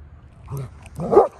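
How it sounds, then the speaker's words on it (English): Dog barking at ducks outdoors, two short barks about half a second apart, moderately near against a quiet background. "he's going to bark at those ducks"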